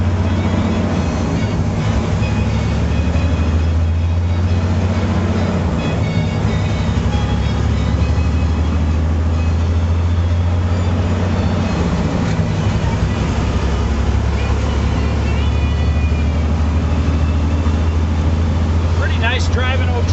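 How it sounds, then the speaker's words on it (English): A 2005 Freightliner Columbia 120 truck drives along at a steady pace, its deep diesel engine drone continuous and close throughout, with a brief gear change and a few faint mechanical squeaks near the end. "Nice driving old truck."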